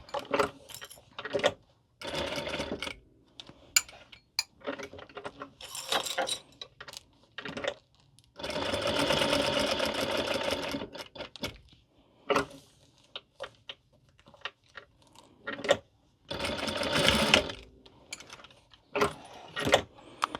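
A home sewing machine stitches a reversible fabric cup cozy in several short bursts, each run of stitching separated by pauses and small handling clicks.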